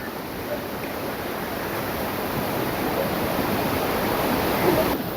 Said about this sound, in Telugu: వాటర్ ఫాల్ చూడండి